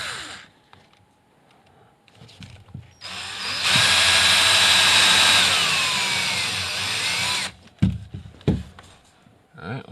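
A power drill starts a pilot hole in wood at an angle, with a loud, close whine lasting about four seconds. Quiet handling noises and faint voices come before and after it.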